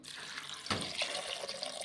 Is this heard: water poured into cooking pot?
yes